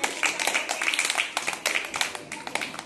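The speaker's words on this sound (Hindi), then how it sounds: "चलो एक बार ताली लगाए।" Children clap along during a classroom rhyme activity about an ant. The claps are quick and uneven, overlapping in a steady flurry that lasts a few seconds, with faint voices mixed in.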